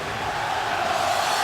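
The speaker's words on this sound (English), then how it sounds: "All Islanders, though, and the crowd appreciates it." Hockey arena crowd at a New York Islanders home game against the Phoenix Coyotes, a broad, steady roar of cheering filling the building for a brief moment.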